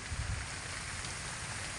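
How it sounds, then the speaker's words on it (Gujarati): Steady rain pouring down, a dense continuous hiss with low rumbling underneath, close and fairly loud throughout. "આજે જોઈ લ્યો વરસાદ ચાલુ થઈ ગયો છે"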